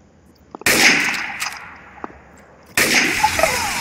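Sniper gunfire in a video game, two loud sharp shots about two seconds apart, each followed by a long fading echo, with a few faint clicks in the quiet before.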